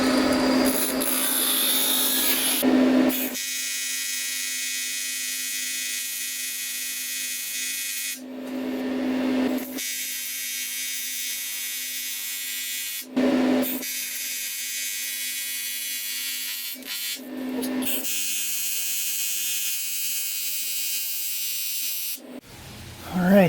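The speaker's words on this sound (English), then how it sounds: "Get a fresh grind on the tungsten quick." A tungsten welding electrode is ground on a high-pitched spinning grinder, a loud steady whine in several sustained passes of a few seconds each, separated by brief quieter gaps as the tool is pulled away.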